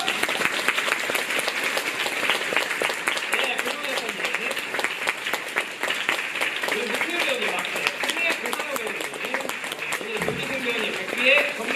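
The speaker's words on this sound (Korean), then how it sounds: "박수 주세요!" A theater audience gives steady, moderately loud applause as performers and a writer are called to the stage, with talk audible beneath the clapping.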